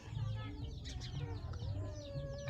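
Fighting-breed roosters about five to six months old clucking nearby in a short burst of overlapping calls, with some low background murmur.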